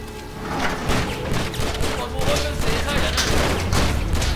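Gunfire from the video game Stranglehold: a sustained fusillade of rapid overlapping shots and dull thumps, loud and continuous, with a voice talking now and then over the din.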